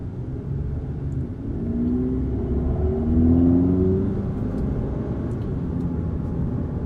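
A Mazda 3 Gen 3 fitted with a DIY pod air intake drones a deep, steady engine growl that swells as it revs up and then settles, loud and close, with no talking.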